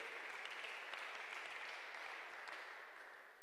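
Guests at a wedding applauding together, a steady dense patter of many clapping hands that fades slightly toward the end, quiet and somewhat distant.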